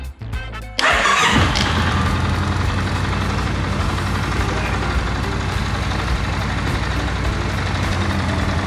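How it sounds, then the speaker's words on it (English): A Kawasaki Vulcan motorcycle engine cranks briefly with a starter whine, catches with a loud burst, then settles into a steady, close rumbling idle. "Turn the bike on."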